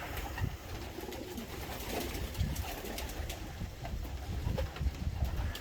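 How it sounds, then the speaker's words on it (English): Racing pigeons let out of a backyard loft on a breezy day, cooing softly and steadily close by, with some faint wing flaps and wind noise under the calls. "So I'll get these birds out, and then we'll come back and have a look."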